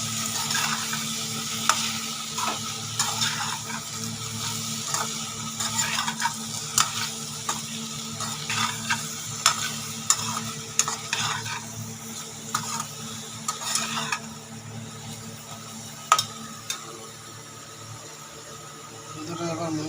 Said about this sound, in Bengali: এবার মশলাটা একটুখানি কষে নিতে হবে